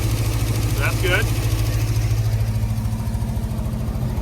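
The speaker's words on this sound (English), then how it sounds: "we did put some exhaust back on it. Cherry bomb." The engine of a 1971 Ford van fitted with a Cherry Bomb exhaust idles loudly and close with a deep, throbbing rumble, while a voice briefly sounds over it.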